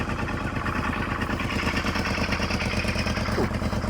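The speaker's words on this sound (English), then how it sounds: "Don't rev the engine, let the oil circulate before you start revving the engine and let it warm up." A car engine idles right after a fresh oil change, a steady low rumbling drone that holds evenly throughout without revving.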